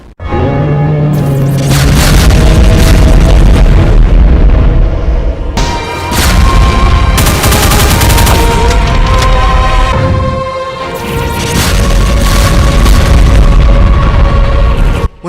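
Cyberdemon in a DooM mod firing volleys of BFG 10K shots: continuous loud booming blasts and crackling bursts pounding on and off for the whole stretch, dense and close, with no talk.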